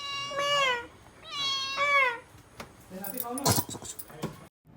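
A cat meows twice, close and clear, in a village home, followed by jangling clinks and rustling handling noises.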